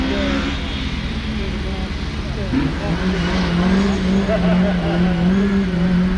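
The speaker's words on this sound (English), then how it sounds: "Motor up and running" A rally car engine runs steadily at a Lombard Rally stage at Weston Park, a loud continuous motor drone with shifting revs throughout, with voices talking over it.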